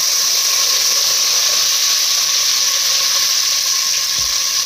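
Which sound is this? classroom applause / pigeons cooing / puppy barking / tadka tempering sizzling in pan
tadka tempering sizzling in pan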